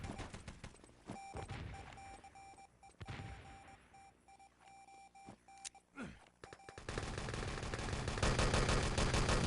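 Gunfire in Enemy Territory during a competitive match: rapid weapon shots and bursts with steady beeping game tones, building to dense, loud firing near the end.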